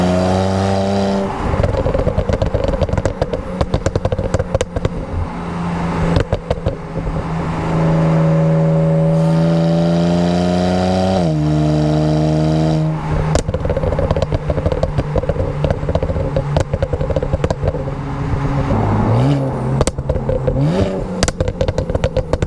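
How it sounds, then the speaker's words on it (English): BMW 335i fitted with catalyst downpipes and an MHD tune, its exhaust loud and close as it accelerates through rising revs with quick shifts, then settles into burbling and crackling pops off throttle, with no talk. "the exhaust sounds so good with the catalyst downpipes. It's quiet when you want it to be, but once you floor it, it gets loud enough."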